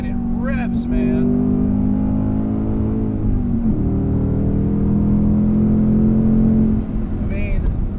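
A 2024 Ford Mustang GT with a cross-plane V8 drones loudly and steadily under load, its pitch rising in two long pulls, while a voice talks over the engine near the start and end.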